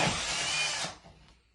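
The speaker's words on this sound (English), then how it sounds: "now I'm ready to drill my final hole" A power drill bores a hole into a drywall wall with a loud, harsh whirring burst that stops abruptly, leaving a faint tail of quiet room noise.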